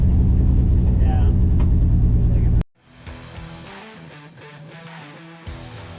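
An old Toyota Land Cruiser engine rumbles loudly and steadily while the truck climbs a driveway, then cuts abruptly to a quieter, lower idle as people talk.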